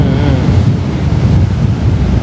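Ocean surf rolls onto Kuta beach in Bali as a loud, steady wash of breaking waves with heavy wind rumbling over the microphone, continuous with no voices.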